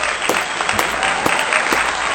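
Applause on a hip hop podcast, a steady wash of clapping with sharper bursts recurring about every half second, moderately loud and close, with no talking over it.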